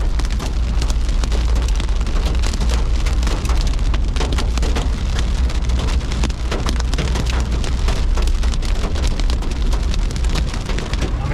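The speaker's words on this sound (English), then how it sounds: "Oh, the hail." Hail pounds down during a violent Oklahoma storm with possible tornado, a loud, dense, continuous battering of ice hitting surfaces, steady and unbroken throughout with a deep rumble underneath.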